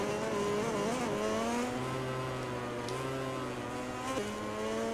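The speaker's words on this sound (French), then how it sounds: "Allez, moteur Ducati, ça va être très très puissant" Ducati motorcycle engine in the MotoGP 20 racing game at the Catalunya circuit, a steady high-pitched engine drone with shifting revs and gear changes, loud and continuous throughout with no talk.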